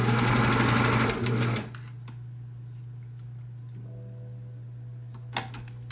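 A sewing machine stitches at speed with rapid, even clatter for about a second and a half, then stops. A low steady hum stays beneath, with a faint click near the end.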